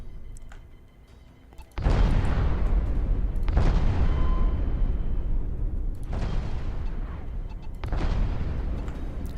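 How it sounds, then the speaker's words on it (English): Heavy spaceship cannons fire in the space combat game Infinity Battlescape: deep, booming blasts with long rumbling tails, four or five repeated roughly every two seconds, loud and continuous. "And bring our big cannons to bear here."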